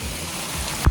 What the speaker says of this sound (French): Là-bas, il y a une espèce de petite cascade.